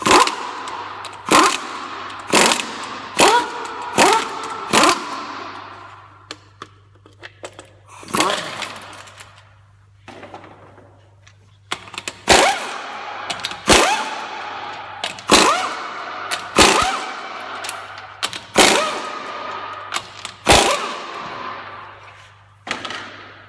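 Wheel coming off a Chevy GMC truck with a 5.3L Vortec engine, up on a vehicle lift: repeated sharp, loud bursts of a power tool rattle in clusters, with quiet gaps and a low steady hum underneath.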